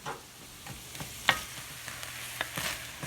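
Vegetables frying in a pan with diced tomatoes and other ingredients, a soft low sizzle broken by a few scraping stirs and sharp utensil clicks, faint and close with no voices.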